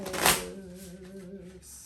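A deck of oracle cards shuffled by hand, a quick close riffle burst followed by softer sliding and settling of the cards, with a faint low hum underneath.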